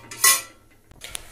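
A utensil scrapes and clinks in a pan while small shrimp fry and are stirred: one loud metallic scrape, then a couple of lighter taps, close and alone without voices.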